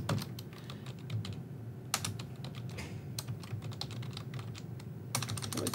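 Typing on a computer keyboard while entering code, clusters of quick close key clicks broken by brief pauses and a few louder taps, no voice over it.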